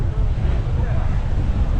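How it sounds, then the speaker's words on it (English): Jet exhaust blast from an airplane at Maho Beach, St Maarten, a steady broad roar of rushing air with heavy wind buffeting the microphone, loud and continuous from start to finish. "Nothing like jet exhaust."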